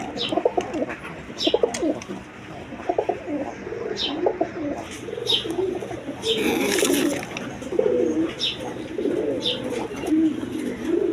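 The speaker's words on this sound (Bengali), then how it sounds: "হাই ফ্লাইং কবুতর এই দেখেন" Satin and high-flying pigeons coo repeatedly in low, throaty rolling calls, with a few sharper bird chirps and some background rustle throughout.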